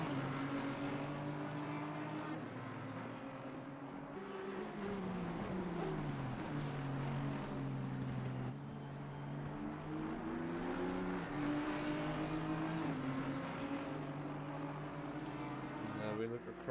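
Race car engines from an Audi and an Aston Martin in a 4-hour endurance race at the Hungaroring, droning steadily and loudly with rising and falling pitch as the cars shift and accelerate, while a commentator talks over them.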